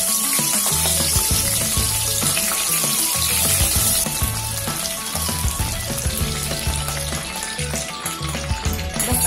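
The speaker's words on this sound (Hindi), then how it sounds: "ये स्लाइस की हुई ऑनियन, एक मीडियम साइज की ऑनियन को मैंने स्लाइस कर लिया है। इसे हम बहुत ज्यादा नहीं पकाएंगे" A medium onion, sliced, fries loudly in a pan, with a dense, continuous sizzle and crackle that eases slightly partway through and has no talking over it.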